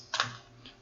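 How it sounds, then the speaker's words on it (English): Two quick keypresses on a computer keyboard while entering a date, with a fainter single press of the space bar following, close and crisp in a quiet room. "While typing the date, now you just press space bar only once"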